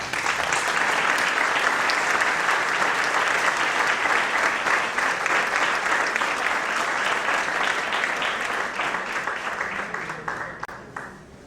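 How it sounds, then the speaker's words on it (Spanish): Audience at a conference in a Jesuit church setting in Mexico City welcomes a speaker with loud, sustained applause from many hands, holding strong before gradually thinning and fading toward the end. "Damos la bienvenida y un fuerte aplauso"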